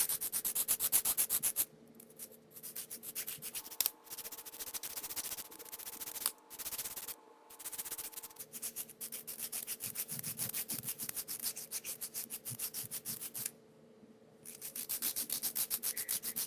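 Kiss acrylic nails are filed by hand with a nail file. Soft, rapid back-and-forth rasping strokes come close and quiet, running in short bursts with brief pauses and no talking.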